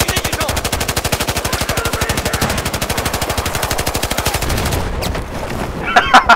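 Long, loud, steady stream of rapid automatic machine gun fire in Battlefield 4, continuing for several seconds before breaking off into scattered louder shots near the end.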